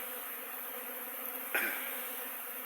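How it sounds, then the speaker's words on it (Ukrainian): Buckfast honeybee drones fly around hives at an outdoor apiary between cold and rainy spells, making a steady, close droning buzz that swells briefly as one passes near. "от трутень пішов, нормально, літають трутні"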